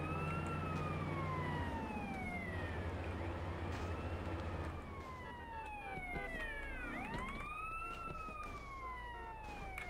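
Wailing police car siren in GTA San Andreas, rising and falling sweeps repeating steadily over a low engine rumble, close and loud throughout.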